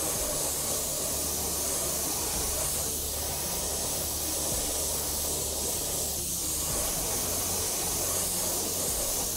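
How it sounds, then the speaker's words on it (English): An aerosol can sprays white paint onto the blade tips of a Grim Reaper model, a steady close hiss running continuously with no talking. "actually spray in white for the tips of the"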